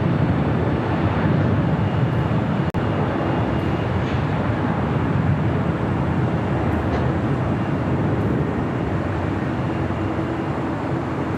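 An airliner, Korean Air Flight 18, rolls down runway 25 left at LAX for takeoff, a broad, steady jet roar holding loud and unbroken for about eleven seconds with no voices.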